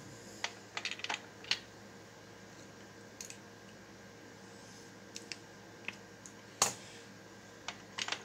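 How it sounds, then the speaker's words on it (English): A Redding case trimmer trims 22 Hornet brass cases, giving sparse, faint clicks and scrapes at irregular intervals, with one sharper snap near the end and a quiet room hum throughout. "this is a Redding case trimmer"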